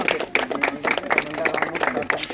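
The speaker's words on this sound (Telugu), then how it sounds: "సో మనందరూ వీళ్ళకోసారి చప్పట్లు కొట్టి" A festival audience breaks into rhythmic clapping, with sharp repeated hand claps close by and voices mixed in underneath.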